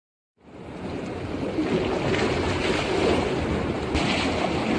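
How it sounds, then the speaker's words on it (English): A sailing boat moving across open water, with a steady broadband rush of water and wind continuing throughout, close and fairly loud, with no voices. "Sailing boat."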